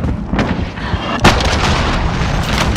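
A cruise missile strike in the shooter Call of Duty: Modern Warfare, heard as a loud, sustained, rumbling barrage with a sharp blast cracking through partway, booming heavily throughout.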